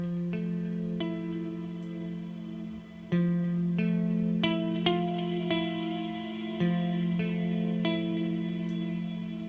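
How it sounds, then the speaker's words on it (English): Electric guitar through a metal amp simulator plugin with heavy delay and reverb: sustained chords and picked notes ringing out, their echoes trailing behind each hit. "the delay and reverb sounds fantastic, and of course the amp sounds great."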